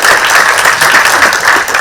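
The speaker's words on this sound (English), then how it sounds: "it's good to hear you clapping" A conference audience at a health assembly side event bursts into loud, sustained applause, many hands clapping densely and evenly at close range with no break.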